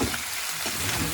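Onion sizzles in a pan while being fried for chicken curry, a steady close hiss of moderate loudness with faint low scraping, running throughout the short moment with no talking.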